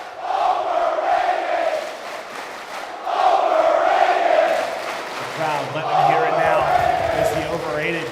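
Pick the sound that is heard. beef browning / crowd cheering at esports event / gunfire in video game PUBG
crowd cheering at esports event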